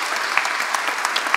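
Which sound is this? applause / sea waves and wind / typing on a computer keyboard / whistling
applause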